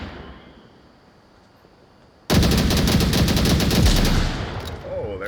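Rapid automatic gunfire in the VR shooter Onward during a competitive match, bursting in abruptly after a quiet stretch and continuing as a loud, sustained rattle before easing off slightly at the end.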